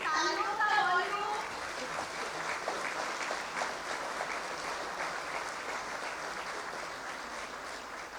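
Audience applause at a prize-giving ceremony for Bhagwan Mahavir Swami's 2550th Nirvana Kalyanak festival, a steady mass of clapping that holds evenly throughout, with a brief voice near the start.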